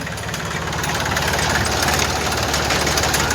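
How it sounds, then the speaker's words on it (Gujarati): A running tractor engine drives a water pump filling a tyre with water, giving a steady, close, continuous idling rumble with a faint knocking throb and no talk. "ટ્રેક્ટર ચાલુ છે પંપ પાણી ઉઠાવે છે"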